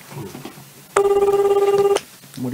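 A telephone rings during a phone call, one loud, steady electronic ring burst lasting about a second, sharp and close, with quiet room noise before and after.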